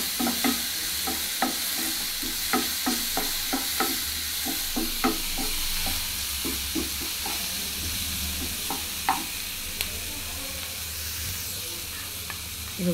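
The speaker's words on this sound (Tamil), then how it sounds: "ஆனியன், டொமேட்டோ, நம்ம பச்சை மிளகா இதெல்லாம் போட்டு நல்லா குக் பண்ணிக்கணும்" Onion, tomato and green chili sizzle in a pan with a steady hiss, while a spoon taps and scrapes the pan in a regular stirring rhythm, close up and without any voices.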